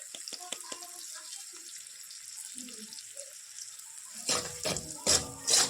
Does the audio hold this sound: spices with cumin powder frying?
yes